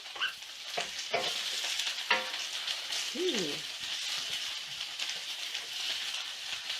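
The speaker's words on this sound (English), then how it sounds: "Just stir fry for about a minute." Ginger stir-fried in a hot pan over high heat, a continuous close sizzle punctuated by several scraping strokes of a utensil, with a faint squeak partway through and no talking.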